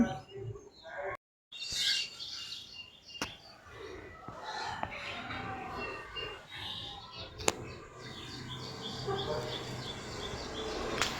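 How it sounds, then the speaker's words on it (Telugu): Birds chirp and call intermittently around a village in the early morning, faint to moderate tweets scattered over soft ambient background, with a brief dropout and a couple of sharp clicks. "బర్డ్స్ సౌండ్ చేస్తూనే ఉంటాయి."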